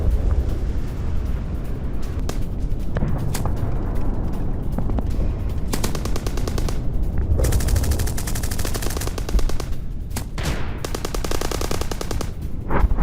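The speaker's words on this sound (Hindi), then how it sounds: "सेना यूक्रेनी जवानों में आमने सामने की फायरिंग की एक तस्वीर देखिए।" Russia-Ukraine war gunfire from a ground battle: dense, loud bursts of automatic fire that run almost continuously, with heavy rapid rattling in the middle and late stretches and no voices.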